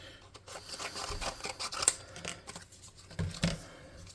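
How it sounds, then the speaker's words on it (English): Scissors snip and rasp through material, cutting strips for the sides of a tabletop-game model smelter, with close crunching cuts and rustling handling in an uneven rhythm, no talk. "we're going to cut off some strips for the sides."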